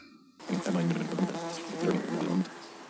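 A voice hums and buzzes in imitation of bees in a musical piece, a continuous droning sound with wavering pitch, close and moderately loud.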